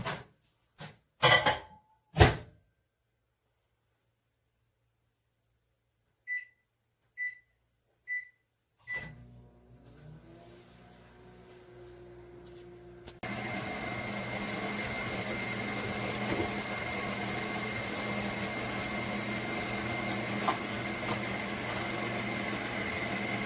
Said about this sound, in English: So I'm just going to pop this in the microwave.